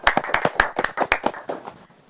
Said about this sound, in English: first we should give her a clap for even coming on the show